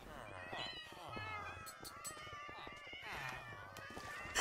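Several Minecraft cats meowing repeatedly, overlapping near and clear cries with drawn-out wavering tones, alone without talk.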